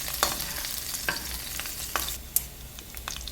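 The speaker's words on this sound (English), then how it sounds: "Now we're sauteing the dried chilies and the garlic." Dried chilies and garlic sauté in a hot pan, a steady close sizzle broken by a few sharp pops and spatula scrapes, with no talking.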